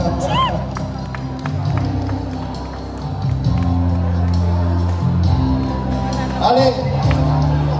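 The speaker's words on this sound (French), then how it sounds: "Encore des applaudissements pour elle, s'il vous plaît." Audience applause and cheering at the close of a one-woman comedy show, a crowd clapping and shouting under a host's amplified voice and background music, lively and sustained.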